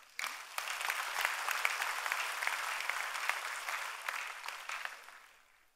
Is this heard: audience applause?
yes